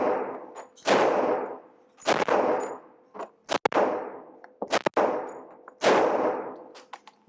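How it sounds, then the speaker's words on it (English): A Glock pistol fires at a target 10 yards away, with about ten loud, sharp close reports, each followed by a ringing decay. They come singly and in quick pairs at uneven intervals. "Okay, I'm at 10 yards now, another 10 shots."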